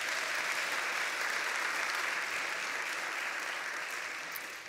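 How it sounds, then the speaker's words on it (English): Audience applause at a university address, a dense, steady wash of clapping from a large crowd that holds for several seconds before beginning to fade. "Let's give Alan a round of applause."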